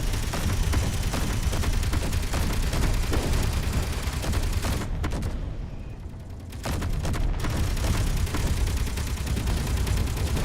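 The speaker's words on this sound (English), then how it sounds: "Go, turrets, go!" Turrets blazing in a Space Engineers battle, a dense, loud barrage of rapid gunfire and booms that pauses briefly midway, then resumes just as heavy.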